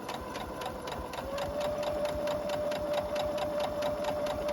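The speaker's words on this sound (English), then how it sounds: "I'm just going to sew straight down." A sewing machine stitching a straight seam on a friendship star quilt block, starting slower then settling into a fast, even rhythmic whir with a steady motor whine, close and continuous.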